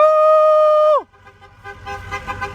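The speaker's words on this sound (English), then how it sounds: "Honk your horns!" A single long car horn blast at an outdoor rally, loud and close, cutting off after about a second into crowd noise and distant voices.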